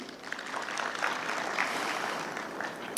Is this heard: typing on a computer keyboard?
no